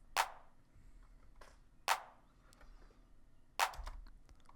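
Dry clap samples in an electronic future bass production, three sharp isolated hits spaced unevenly with quiet gaps between them, crisp and close with no reverb or distortion.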